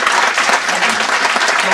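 Audience applause at a conference honoring the family of Emir Abdelkader, a dense, steady clatter of many hands clapping that fills the room at close range without pause.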